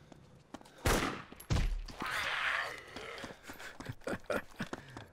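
Two loud, close gunshots in the DayZ game on the Utes map crack out in quick succession, each a sharp broadband burst with a brief decay, followed by a rumbling tail and scattered smaller impacts and clatter.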